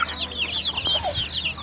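Aseel chickens cluck and chatter close by in a busy, continuous run of short calls, with a brief lower cluck in the middle.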